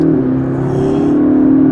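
A turbocharged McLaren MP4-12C accelerating, heard as a steady, close engine drone with a smooth, even pitch and a light whirring edge, with no talking.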